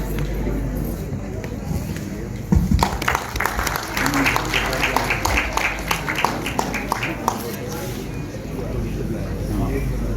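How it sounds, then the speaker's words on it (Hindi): Audience applause at a Pakistani movie launching ceremony, scattered claps building into steady clapping from a crowd in a hall, with voices underneath. "बहुत सी तालियाँ अमरूदिया मैडम के लिए"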